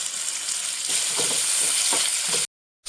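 Sliced medium onion and green chillies sautéing in hot oil with a pinch of salt, a steady close sizzle with soft stirring scrapes, cutting off abruptly near the end.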